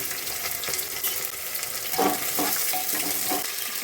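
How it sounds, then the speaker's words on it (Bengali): Cauliflower, beans and carrots frying in a pressure cooker with cardamom, cloves and cinnamon, a dense continuous sizzle broken by a few scraping stirs of a spoon against the pot. "ফুলকপি, বিম তার গাজরটা আগে ভেজে নিচ্ছি"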